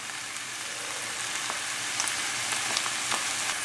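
Chopped onions, bell pepper, tomatoes and garlic frying in a pan, a steady soft sizzle with faint crackles and occasional small pops, fairly quiet and without any talking.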